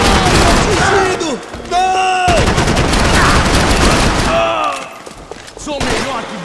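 Gunfire from the Max Payne 3 video game, bursts of shots mixed with loud game music and dialogue, with voices talking over much of the action.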